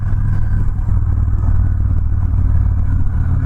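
Victory Cross Country Tour 106ci V-twin bagger, nearly 800 pounds, pulling hard under acceleration, with a loud, steady low engine drone that stays strong and unbroken throughout, no talk.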